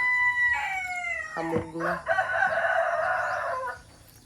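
A rooster crows nearby on a farm in a long drawn-out call, followed by more crowing and clucking, with a few spoken words mixed in.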